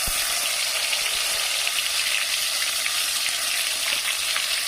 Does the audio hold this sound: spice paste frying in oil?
yes